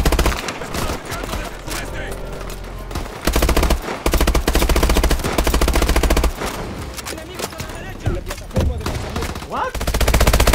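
Gunfire in the video game Call of Duty: Advanced Warfare, loud sustained automatic bursts and rapid shots almost without pause, with excited voices shouting over the fire.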